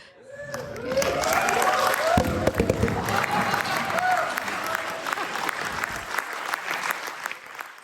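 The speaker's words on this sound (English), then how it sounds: "deserve a huge, huge round of applause" An audience at a Titanic anniversary weekend event aboard the Queen Mary breaks into loud, sustained applause with some cheering, swelling quickly and then slowly thinning out over several seconds.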